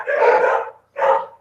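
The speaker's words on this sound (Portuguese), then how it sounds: "Pá, soltaram o cachorro aí." A dog barks twice, close and loud: a long rough bark, a short pause, then a second shorter one, with no talk over it.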